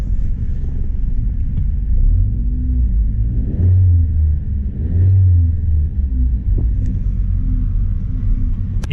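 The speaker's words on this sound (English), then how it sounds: "it's idling just fine on its own" A Pontiac G5 car engine idles steadily with a low, continuous rumble, close up, with a couple of small clicks and no voices.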